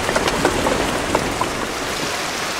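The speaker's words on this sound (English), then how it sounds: "So, well protected, I waited for the rain to stop" Rain falls steadily and fairly loudly, with scattered drops pattering on a roof or nearby surfaces, on a wild island where it rains nearly every day.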